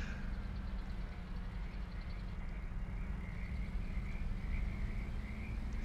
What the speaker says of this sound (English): can hear the little frogs over there in the water chirping at us